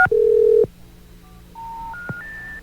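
Telephone keypad tones from a call being placed: a long steady tone, then a few short single-pitch beeps spaced apart, loud and clear with no talking.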